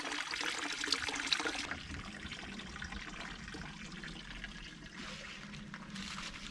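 A small stream in the Black Forest keeps up a steady close trickle and gurgle of water. It is a little louder and brighter at the start, then settles into a softer, even flow.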